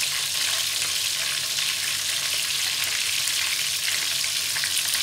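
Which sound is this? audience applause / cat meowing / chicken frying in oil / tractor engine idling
chicken frying in oil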